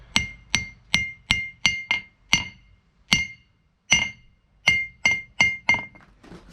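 A hammer dropped onto a blacksmith's anvil bounces in rebound tests, including a dead spot patched with Bondo. Bright metallic clinks come in quick bouncing bursts, loud and near, with short silent gaps between groups.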